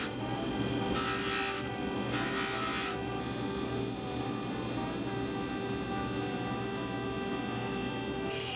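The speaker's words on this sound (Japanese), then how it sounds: "壺の部分をバッフで磨いていきます。" A motorized buffing wheel polishes the bowl of a handmade forged silver spoon with 1500-grit abrasive, a steady machine hum broken by two brief, harsher rubbing bursts as the metal is pressed against the wheel.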